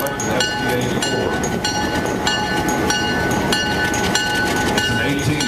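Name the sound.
Montreal Locomotive Works 1959 FPA4 diesel locomotive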